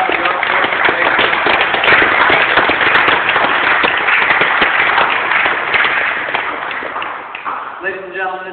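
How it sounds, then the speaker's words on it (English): Audience at a Jump Master graduation ceremony claps loudly and steadily for the graduating officers, the dense applause fading toward the end as a voice begins speaking. "Please join me in a round of applause for the officers."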